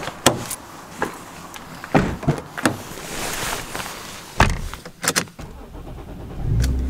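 A car door thumps and the engine starts before the car pulls away, with several sharp knocks and clunks, then a rising engine note as it begins to drive off nearby.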